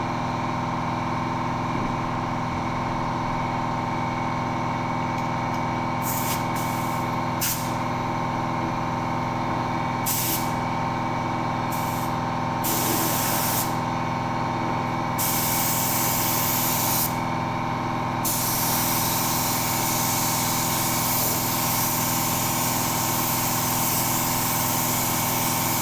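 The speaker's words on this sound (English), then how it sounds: "It would help if the compressor was on." Air compressor running steadily with bursts of spray-gun hiss as paint goes onto a fire-damaged 1969 Ford Escort van, the spray coming in several separate pulses over a constant machine drone, with no talking.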